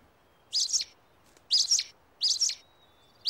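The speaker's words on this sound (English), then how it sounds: "Noisy birds?" Birds chirp in short, bright bursts of tweets, four evenly spaced calls ringing out clearly against a quiet background in a Busytown Mysteries cartoon scene.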